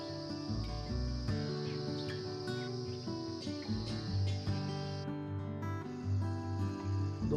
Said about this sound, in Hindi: और आजकल निनारों की चहकने की आवाज़ कुछ ज़्यादा ही आ रही है,